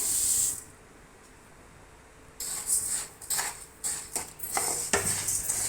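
Rice dry-roasts in a pan for a ven pongal premix. A brief hiss gives way to near-silence, then the grains are stirred with a series of scraping, rattling strokes and clinks against the metal.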